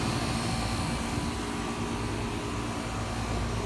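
A home air conditioner's outdoor unit runs loud and steady nearby, a continuous broadband whoosh of fan and compressor with no change in level and no talk.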